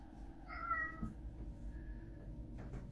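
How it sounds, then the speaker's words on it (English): A domestic cat meows indoors, one clear, fairly quiet meow near the start, followed by soft household room tone with a faint rustle. "My cat just keeps walking around meowing, which is also freaking me out."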